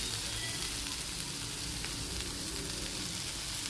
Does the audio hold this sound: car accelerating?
no